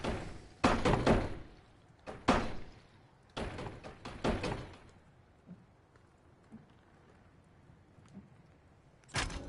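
Locked door being rattled in the VR game A Fisherman's Tale, a series of sharp, loud wooden knocks and jolts in a few bursts, each followed by a fading rattle and quiet.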